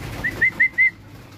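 A racing pigeon just back from a training flight gives four short cooing calls in quick succession, close and clear over a quiet background.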